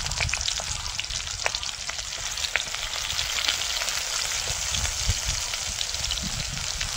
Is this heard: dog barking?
no